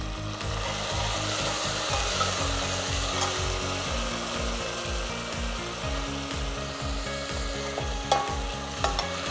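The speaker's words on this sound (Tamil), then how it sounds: "சின்ன வெங்காயம் வதங்கட்டும்." Shallots and tomatoes frying in oil for a mutton bone kuzhambu, with a steady close sizzle under rhythmic scraping strokes of a stirring spoon, plus occasional sharper clinks near the end; no talking.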